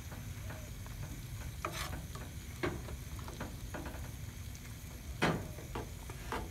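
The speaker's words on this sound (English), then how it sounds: "See I'm stirring the cream cheese into it." Cream cheese is stirred into curry grits in a pot, quiet and close, with a faint simmering hiss and a few soft spoon scrapes and clicks against the pot.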